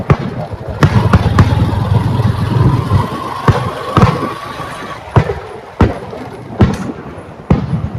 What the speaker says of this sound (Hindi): सामने आतिशबाजी आप देख सकते हैं, ये आतिशबाजी उसी की है।